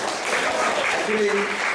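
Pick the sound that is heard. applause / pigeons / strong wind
applause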